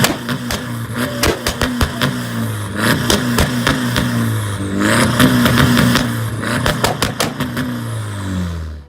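A Volkswagen Mark IV engine revs repeatedly, sharp throttle blips and rising vroom surges with rapid popping crackle between them, one longer sustained rev in the middle, loud and close with no talk.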